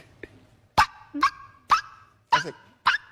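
A person imitates a dog barking: five sharp, loud yaps in quick succession after a short soft sound, with no talk.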